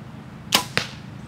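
An arrow loosed from a bow by an archer crouched in a tree stand: a sharp snap followed a moment later by a second crisp thwack, both brief and fairly close against a quiet outdoor background.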